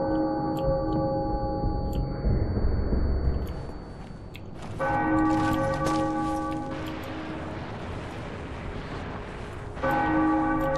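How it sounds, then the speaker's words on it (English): Church bell tolling inside the video game Sniper Elite V2, sustained ringing tones with layered harmonics, struck again around mid-clip and near the end over a low rumbling game ambience. "There's a bell."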